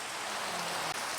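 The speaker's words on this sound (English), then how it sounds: "even though it's raining once again." Steady rain falls in a Jurassic Park park-building video game, a continuous broadband hiss with no distinct drops, even and moderately loud throughout a brief stretch.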